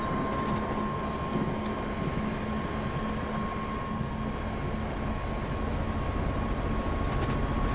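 A train in Train Simulator Classic on the Stafford to Rugby route with a Class 350 makes a constant, heavy rumble with a steady hum, unbroken and close throughout, with no talking.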